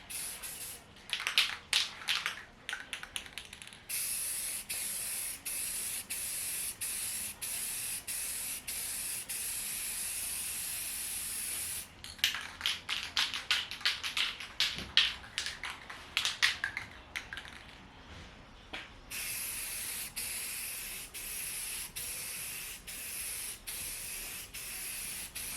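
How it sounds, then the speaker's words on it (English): A spray can puts black paint over primer on a 1994-1998 Mustang side scoop. It makes long, steady aerosol hisses broken by short pauses, with a burst of quick ticking pulses near the middle, loud and close with no talk. "come back over here with the black spray"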